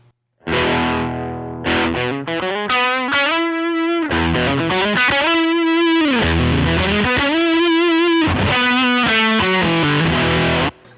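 A distorted electric guitar runs through a Line 6 Pod Express amp modeler, playing loud, sustained chords and bending lead lines steadily for about ten seconds with no talking.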